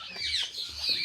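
A rooster on a poultry farm clucks in short, fairly faint bursts, two brief calls about a second apart.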